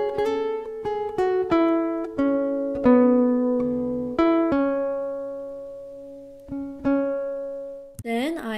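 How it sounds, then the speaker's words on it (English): A Yamaha silent guitar is played dry and unprocessed: a handful of clear plucked notes and a short melodic phrase, each ringing and decaying, ending in a quick scrape. No one speaks. "Then the last thing is my Yamaha silent guitar."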